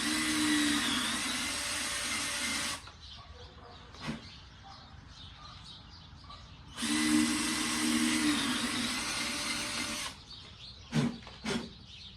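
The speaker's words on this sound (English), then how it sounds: "We're gonna drill some holes to make some of our part of our face on this one." A power drill bores holes into a pumpkin to carve facial features, running in two steady whirring bursts of about three seconds each, separated by quieter handling noises and small knocks.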